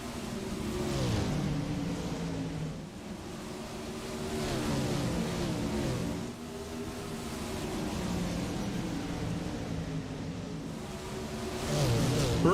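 Sprint car engines roar steadily in an iRacing video game race at Volusia, a loud, continuous droning whine that swells and dips as the cars run laps, with no voices over it.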